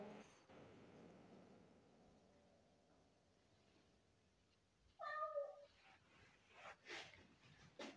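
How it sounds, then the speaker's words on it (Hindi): A cat meows near a room recording at night, a couple of loud meows after quiet background hiss, with fainter sounds following. "बिल्ली आ गई"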